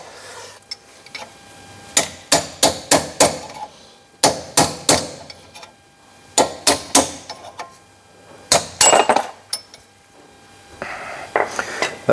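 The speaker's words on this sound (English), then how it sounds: "That was a satisfying sound of a bearing race coming out" Hammering out a bearing race during front end repairs on a Morris 1100S: bursts of sharp metallic hammer blows in quick groups of four or five, close and ringing, separated by short pauses, with no talk.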